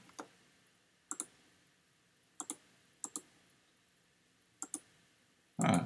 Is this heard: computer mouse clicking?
yes